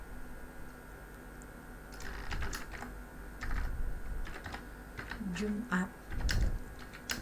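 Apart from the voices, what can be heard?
typing on a computer keyboard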